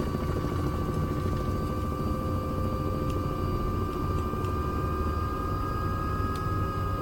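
Steady, unbroken aircraft engine drone in Microsoft Flight Simulator 2024 during a low approach with added power, a loud broadband roar with faint high whine tones, holding constant throughout with no talking.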